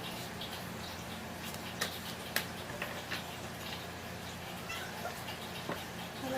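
A cat meows faintly a few times in a quiet indoor room, with soft ticking and small clicks in the background and no talking.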